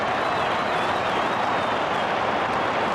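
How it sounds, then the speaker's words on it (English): A large football crowd at the MCG during a Melbourne versus Hawthorn AFL match roars in a continuous, dense wash of noise with no breaks, filling the whole stadium. "The crowd are just screaming onto the MCG, coming from every area of the Oval."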